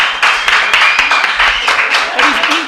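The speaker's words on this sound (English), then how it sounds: "Big round of applause for Laura Costa." Live applause for a guest on a cannabis-themed talk show, dense clapping and cheers filling the room under a few raised voices.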